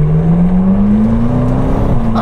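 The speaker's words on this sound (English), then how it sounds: "this of course has the same 4-litre V8 engine that you get in the 720S, but it does have 2 new turbos and they can get very angry" A McLaren GT grand tourer's 4-litre twin-turbo V8 pulls steadily from inside the car, its engine note rising smoothly and continuously over a couple of seconds with a loud, close drone.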